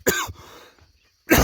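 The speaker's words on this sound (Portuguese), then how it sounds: "E eu ando meio que tossindo." Two harsh coughs separated by about a second of quiet, close and loud, with faint shuffling between them.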